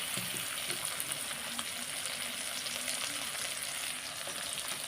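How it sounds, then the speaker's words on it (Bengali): Steady, close sizzling of oil as soaked chickpeas cook with pumpkin and potato for a banana-stem curry, with a dense crackling hiss throughout and faint stirring beneath. "কুমড়ো আলুটা ভালো করে ভাজা হয়ে গেছে এইবার দিয়ে দিচ্ছি ভিজিয়ে রাখা ছোলাটা"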